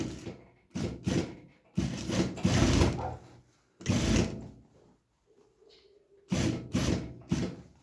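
A sewing machine stitches a double seam on overalls in several close, loud bursts of rapid mechanical whirring, separated by short pauses and a faint hum, with no talking.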